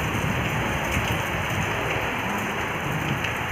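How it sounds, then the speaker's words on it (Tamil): Steady rain pours down on a hillside, a dense, even hiss of drops with no break or talk over the whole stretch. "மழை பெய்யுது"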